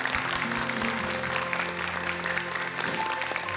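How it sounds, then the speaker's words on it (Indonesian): Studio audience applauding the parents on an Indonesian children's Quran memorization TV show, steady sustained clapping throughout with a low hum and faint crowd murmur underneath. "Boleh tepuk tangan untuk para orang tua yang luar biasa ini."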